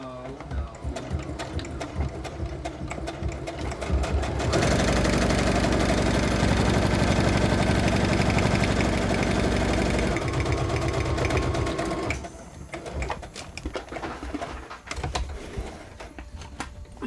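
A sewing machine stitching paper journal pages, its needle running in a rapid mechanical whir, first in short bursts, then a loud sustained run for several seconds before stopping and starting again, close by.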